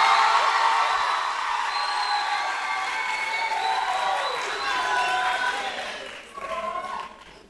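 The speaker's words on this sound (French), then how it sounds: "Faites du bruit pour les membres du jury." A festival audience breaks into sustained applause with cheers and whoops for the competition jury, loud and dense throughout before easing slightly near the end.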